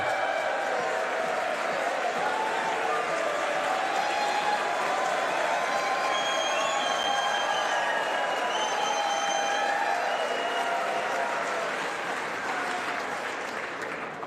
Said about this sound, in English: Thank you for that very generous applause.